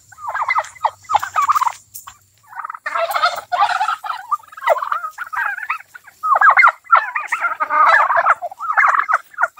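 Turkeys, including a Blue Slate gobbler, gobble in repeated bursts, loud and close, with brief quiet gaps between the rattling calls.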